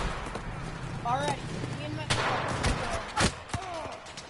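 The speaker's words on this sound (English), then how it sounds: "Stop fucking shooting me" Gunfire in the World War II shooter Enlisted: several sharp single shots and short bursts at irregular intervals, near and loud, with a player shouting over the fight.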